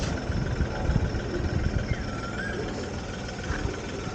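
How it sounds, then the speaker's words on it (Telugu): A parked truck's engine idles close by with a steady low rumble and slight irregular throb, running alone in an early-morning market. "ఇంజిన్ ఒక 2 నిమిషాలు ఆడితే మనం ఆపేయచ్చు అనమాట"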